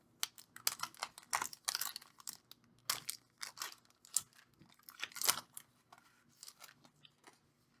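A Kamigawa Neon Dynasty card booster pack is torn open, its foil wrapper giving off close, irregular bursts of crinkling and crackling with short pauses between, and no voices.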